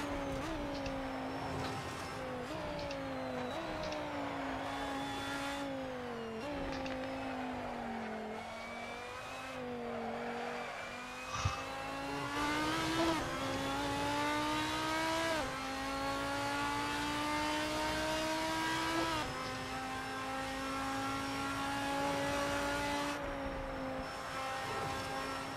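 The Glickenhaus race car in the racing game Assetto Corsa revs hard through repeated gear changes on the Nordschleife, a loud, continuous engine note climbing and dropping over and over.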